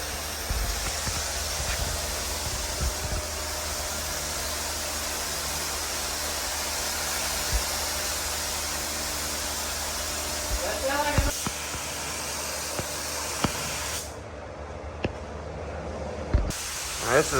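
A paint spray gun lays down a second coat on an old car body, giving a long steady hiss that continues throughout and then cuts off briefly near the end, with a few faint knocks.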